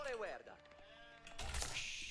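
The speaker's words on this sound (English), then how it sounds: "Ooh, nice sheep here." A sheep in the video game Age of Empires 4 lets out a single short, wavering bleat near the start, followed by quieter game sounds and a voice talking.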